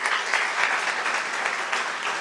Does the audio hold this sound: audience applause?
yes